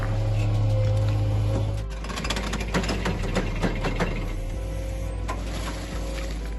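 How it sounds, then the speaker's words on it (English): A Komatsu PC210 excavator works with a steady low engine drone and a deep hum, then rattling, clanking mechanical bursts as it moves, loud and close throughout. "The Komatsu PC210 is a versatile excavator that never disappoints"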